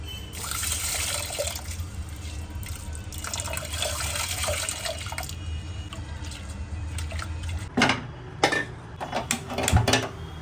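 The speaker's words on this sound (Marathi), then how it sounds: "आता आपण स्वच्छ पाण्याने धुवून घेऊया." Toor and moong dal being rinsed in clean water before going into the pressure cooker: a steady run of water and sloshing through most of the clip, then a few louder splashes and clatters near the end, with no voice.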